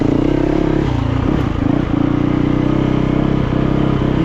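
A Yamaha YZ450FX dirt bike engine roars steadily while being ridden on a trail, loud and close, with a throbbing low drone and occasional clattering from the bike.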